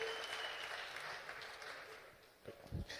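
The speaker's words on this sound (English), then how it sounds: "A big round of applause for Ubandile Sikwane, please" Applause at a book launch, the crowd's clapping a soft, fairly distant wash that thins near the end, where a few louder close bumps and handling noises break through.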